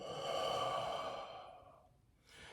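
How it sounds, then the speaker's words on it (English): One long forceful exhalation for a breathing exercise aimed at asthma, loud and breathy at first and then fading. A short quieter breath follows near the end, and no one speaks. "you're exhaling to the point where your diaphragm contracts, your abdominal muscles tighten up,"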